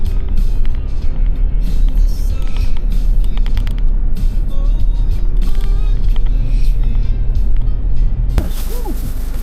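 A car fords a river crossing near Casiguran, with loud creaking and clunking of the chassis and suspension over a rumbling engine and rough ground, and a sharp bang near the end.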